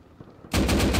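Turret machine gun fire in the Rust video game bursts in abruptly halfway through and continues as a loud, dense, rapid stream of shots after a quiet start.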